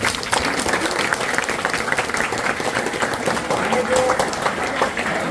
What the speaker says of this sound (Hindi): तो एक बार आप सभी लोग एक दूसरे के लिए ताली बजा दीजिए